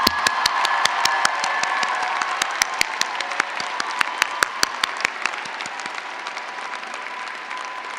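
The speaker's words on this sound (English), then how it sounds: "please let us all give a round of applause to those who held your hand to cross this street" An audience at a 2014 Cambridge College commencement applauds in a broad sustained roar of clapping, with a few sharp nearby claps standing out in an uneven rhythm before they thin out.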